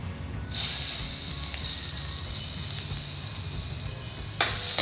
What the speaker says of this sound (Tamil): இந்த தேங்காயை நல்லா செவக்க வறுத்து எடுத்து வச்சுக்கோங்க